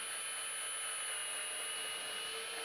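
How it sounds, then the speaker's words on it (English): Drill bit boring slowly through metal during an oil cooling system install, a steady high-pitched whine with a continuous grinding hiss beneath it, held at an even level with no talking. "I'm gonna take my drill bit, find that center mark, and I'm gonna take my time and just drill through"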